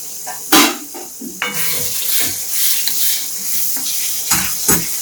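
Tomatoes and onions fry in oil with turmeric, giving a steady close sizzle broken by clanking scrapes and stirring knocks of a spoon against the pan, with no voices.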